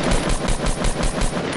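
Loud automatic gunfire in the Fortnite video game, a steady, rapid burst of shots with no pause and no voices over it.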